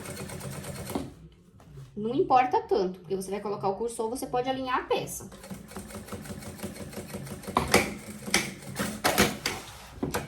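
A sewing machine stitches a banana bag in quick, rhythmic bursts, close and clear. Someone speaks between and over the runs of stitching.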